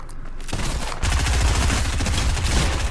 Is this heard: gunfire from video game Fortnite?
yes